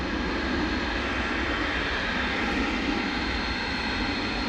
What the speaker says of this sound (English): here comes the A300